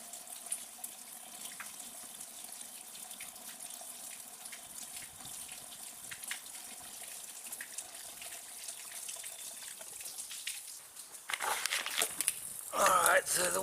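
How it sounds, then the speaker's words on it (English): Water flushes and drains out of a car's cooling system during a coolant change, a steady trickling flow under some talk that swells into a louder gush near the end. "the water's coming out pretty clean now"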